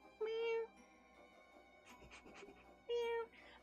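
A voice imitating a cat's meow, two drawn-out tonal meows with breathy speech-like sounds between them, close and fairly quiet.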